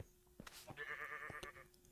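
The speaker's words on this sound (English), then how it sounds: "And then the sheep scared me." A sheep in the game StoneBlock 4 lets out a single close, wavering bleat lasting about a second over faint background clicks.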